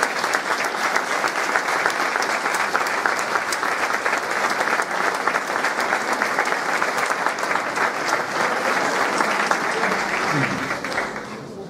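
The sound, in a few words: audience applause for a municipal music band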